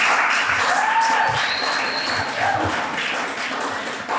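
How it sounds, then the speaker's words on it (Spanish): A congregation claps loudly and continuously at a church service, a sustained roar of applause with a few whistles rising above it and faint voices mixed in. "Dale un aplauso al Señor"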